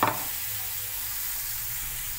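Mustard paste with turmeric and chilli powder fries in a pan, opening with a short burst as it hits the oil and then settling into an even, moderately loud sizzle.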